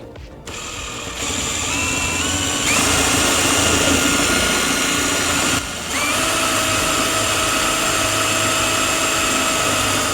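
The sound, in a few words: drilling into a small wood block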